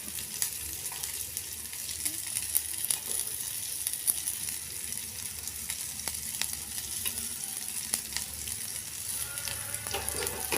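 Onions fry in oil in a pan, a close, steady hiss of sizzling with scattered light crackles and the occasional tap of stirring, with no talking.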